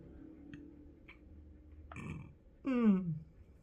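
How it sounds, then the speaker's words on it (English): A single loud, throaty burp erupts near the end, following quieter murmuring and a brief breath-like rustle, heard close up during an online poker session. "What is it with me having to burp while I'm on camera?"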